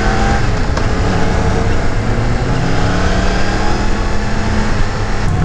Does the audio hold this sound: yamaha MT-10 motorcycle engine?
yes